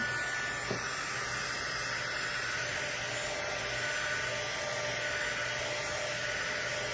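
A dryer blows steadily over a handmade Halloween craft piece for a tiered tray, giving a continuous close, even airy whoosh with no breaks.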